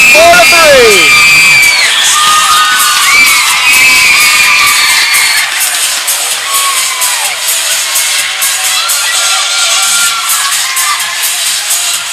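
A hometown hockey crowd at an under-18 major game roars and cheers after an overtime winning goal, loud whoops and yells swelling then settling into sustained noise, with a commentator talking over it.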